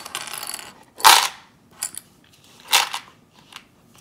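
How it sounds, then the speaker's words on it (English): Metal clips being unclipped from a mounted embroidery piece, giving a few separate sharp snapping clicks at irregular spacing, close and fairly loud with quiet gaps between. "So carefully remove the clips"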